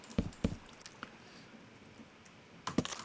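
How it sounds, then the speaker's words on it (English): Axe stripping logs by right-click in modded Minecraft on a sky-island map: a few sharp, brief scraping clicks near the start and again at the end, with a quiet stretch between. "Just right-clicking, of course, with the axe is how we strip logs"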